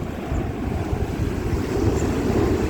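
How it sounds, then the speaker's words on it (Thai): A steady low roar of an engine and rushing water as a speedboat passes out on the sea off Rayong, Thailand, with wind buffeting throughout. "ขับจรวดชมวิวครับ"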